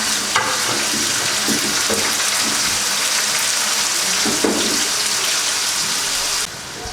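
Tomatoes drop into a frying pan and sizzle loudly and steadily, with a few stirring knocks and spatula scrapes, close by.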